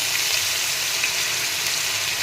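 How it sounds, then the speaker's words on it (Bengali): Grated ginger, whole cumin, asafoetida and a bay leaf sizzle in hot mustard oil, a loud, dense and unbroken hiss of frying with no voices. "তারপর দেব গোটা জিরে, তারপর দেব একটু হিং, এবার দিয়ে দেব আদা।"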